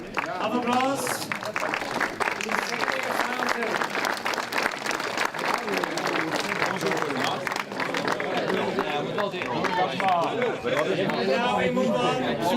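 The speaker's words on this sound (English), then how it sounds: "Big hand of applause." A crowd at a DRKC 2026 finals award ceremony applauds in a steady, dense wash of clapping that lasts throughout, with crowd chatter mixed underneath.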